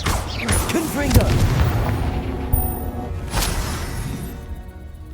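Fiery blast from the Confringo spell in Hogwarts Legacy, a loud booming explosion followed by several rumbling impacts and crackling debris over a few seconds, with a voice speaking briefly amid the noise.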